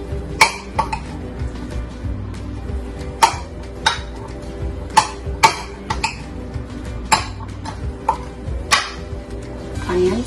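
Salad of onions, tomatoes and cucumber tossed together in a bowl, with a string of sharp clinks and clatters of a utensil against the dish at an uneven rhythm, close and fairly loud.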